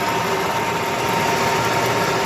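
An 11 kW electric motor runs steadily, giving a loud constant hum with a high whine and no change in pitch or level, no talking.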